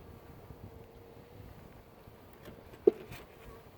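Honeybees hum faintly around a hive during an inspection, a soft continuous buzz with a single brief louder pass close to the microphone.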